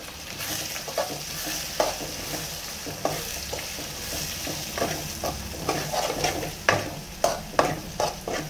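Three eggs sizzle in a hot pan for pasta while a utensil repeatedly stirs and scrapes them, producing close frying hiss punctuated by irregular clinks and scrapes, with no talking.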